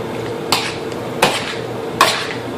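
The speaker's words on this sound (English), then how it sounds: "So you keep on mixing it up there." A utensil scrapes and stirs guacamole with jalapenos in a bowl, with three sharp clinks against the bowl spaced evenly over a soft continuous scraping.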